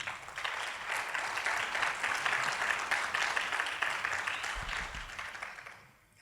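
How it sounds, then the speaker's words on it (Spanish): A church congregation claps in praise during a sermon, many hands in a steady, fairly distant round of applause that fades out at the end. "Dele un aplauso al Señor."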